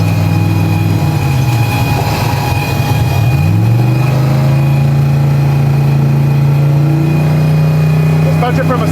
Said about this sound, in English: I'm gonna downshift.